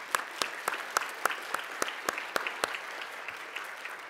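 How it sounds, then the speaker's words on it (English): A small audience at a children and youth issues briefing claps for the emcee, with sharp individual claps in a loose, steady rhythm above a soft background of scattered clapping, fairly close and thinning toward the end. "so let's have a round of applause for her."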